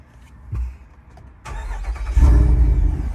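A 392 Jeep Wrangler engine cranks and catches with the exhaust closed, then settles into a low, mellow rumble that swells louder as it idles, heard up close.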